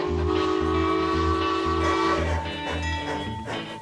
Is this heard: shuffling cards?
no